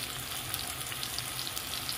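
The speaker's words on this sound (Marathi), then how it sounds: "त्याच्यामध्ये मी अद्रक लसूणची पेस्ट टाकून घेऊ" Ginger-garlic paste fries with softened onion and tomato in a pan for a dry pea and paneer dish, giving a steady close sizzle with a dense crackling hiss and no talking.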